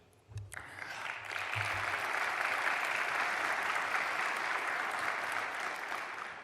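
Audience applause at a political forum in the Río de la Plata region, starting after a couple of brief low thumps and swelling into steady, full clapping that continues to the end at moderate level.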